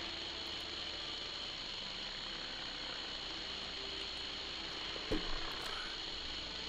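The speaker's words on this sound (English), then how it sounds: "No, I'm sorry, that is radio static." Radio static forms a steady, even hiss that runs unbroken throughout, with a brief sharp click near the end.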